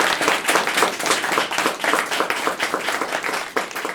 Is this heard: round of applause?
yes